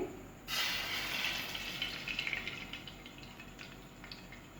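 Milk poured into hot ghee in a pan bursts into a loud sizzle that hisses steadily, then slowly settles into a quieter bubbling frying sound.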